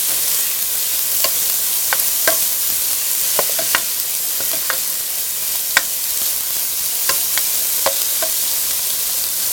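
Onions sweating gently in a pan for chicken cacciatore, a steady soft sizzle with scattered clicks and taps of a utensil against the pan throughout, no voices.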